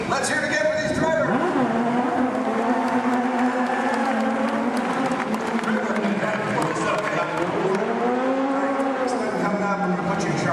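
Stunt cars at a Disney stunt show, engines revving and whining up and down in pitch as they race around, loud and continuous, with a crowd and an announcer's voice mixed in.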